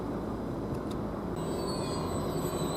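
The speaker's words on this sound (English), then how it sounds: "this Greater Anglia train, which is the 1441 service from Felix towards Ipswich, is just now departing" A Greater Anglia passenger train, the Felixstowe-to-Ipswich service, pulls away from Derby Road station with a steady low rumble of engine and wheels, fairly close and constant, with faint high squeals above it.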